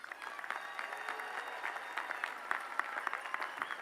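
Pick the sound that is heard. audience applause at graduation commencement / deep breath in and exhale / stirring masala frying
audience applause at graduation commencement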